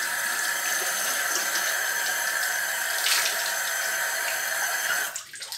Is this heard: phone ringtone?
no